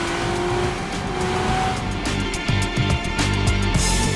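A 2013 Porsche Boxster S is driven hard through corners, its engine loud and close with a steady drone that rises and shifts as it revs through the bends.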